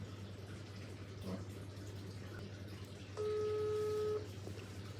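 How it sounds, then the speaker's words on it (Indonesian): A short run of telephone dialing tones sounds alone over a low steady hum in a quiet indoor room. "Coba deh telepon Al."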